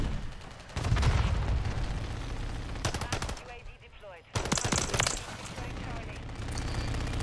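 Modern Warfare 3 gameplay gunfire, loud rapid bursts of automatic shots in several volleys with brief pauses, mixed with in-game effects and a player's voice.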